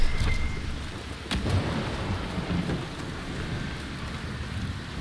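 A thunderstorm in the video game Dragon Age: Inquisition, with a sharp lightning crack followed by rolling thunder over steady, dense rainfall and a faint wind wash throughout.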